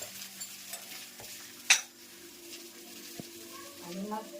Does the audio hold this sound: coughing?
no